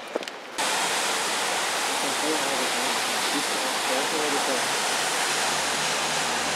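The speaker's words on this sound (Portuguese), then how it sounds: "Chegamos na cachoeira," Waterfall along a forest trail, a loud continuous rushing roar that starts abruptly after a brief quieter moment and holds steady, with faint voices under the water noise.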